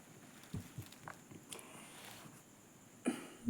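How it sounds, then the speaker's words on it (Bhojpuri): A single cough bursts out near the end of a quiet stretch during a Bhojpuri devotional havan song session, preceded by a few faint soft thumps. "मुझे खांसी आ गई बीच में"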